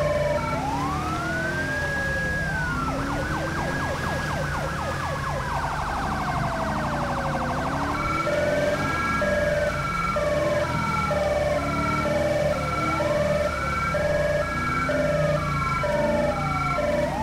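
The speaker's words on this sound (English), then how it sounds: "They're using the Federal Signal Smart Siren, guys. I mean, the Federal Signal Delta" A Federal Signal Delta police siren in Grand Theft Auto V wails loud and continuous, cycling through rising and falling sweeps and then a faster yelp pattern, with several siren tones overlapping.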